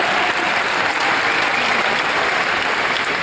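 Steady, dense audience applause fills a commencement ceremony at a community college, loud and continuous throughout with no talking over it.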